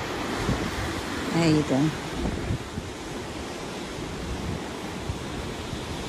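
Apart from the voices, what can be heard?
ocean waves at sea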